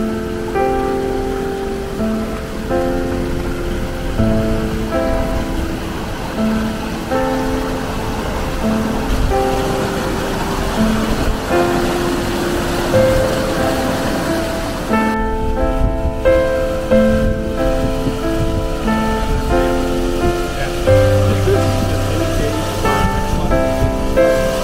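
Ozark waterfall giving off a constant broadband rush of falling water, steady and full throughout, with instrumental music playing over it.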